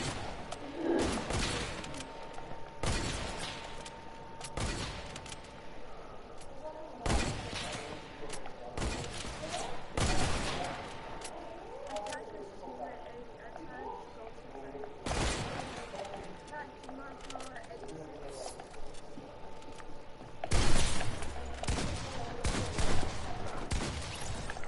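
Fortnite gunfire crackles in repeated bursts throughout, with sharp shots scattered between stretches of quieter game sound, while people talk over the action.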